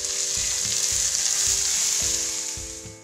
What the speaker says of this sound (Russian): к луку добавляем грибы и обжариваем их минут 8-10